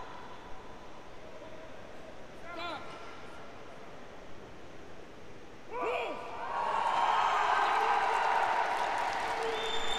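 A crowd breaks into steady applause after a powerlifting lift at the African powerlifting championship in Algiers, the clapping rising midway and continuing to the end over a faint announcer's voice.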